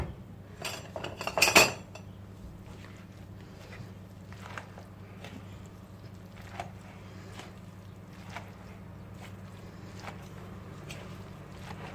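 A spoon clinks against a bowl while a dried tomato salad with pomegranate molasses is stirred: a burst of clatter at first, then softer, intermittent scrapes and taps over a low hum.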